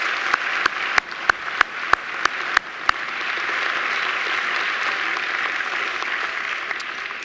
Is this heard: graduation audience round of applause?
yes